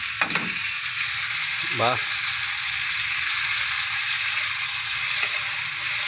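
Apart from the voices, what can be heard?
ubok added to pan and frying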